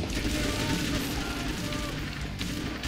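A flashbang blast in the video game Alan Wake's American Nightmare, a loud dense roar of explosion and gunfire noise filling the whole stretch, fading slightly near the end.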